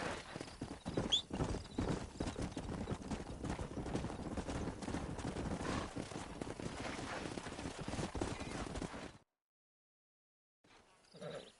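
Horse hooves clip-clopping in the Red Dead Redemption video game, a steady rapid run of hoofbeats up close, with a brief neigh early, before cutting to silence and a faint return.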